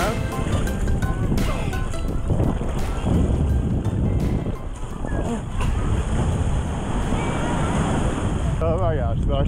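Ocean surf at Delaware Seashore State Park, with continuous broadband wave wash and wind buffeting the microphone. A voice briefly breaks through near the end.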